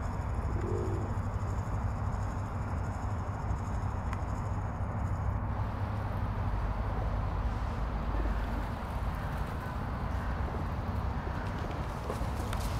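Pigeons coo and rustle softly amid a steady outdoor background hum, with occasional faint bird calls and no talking.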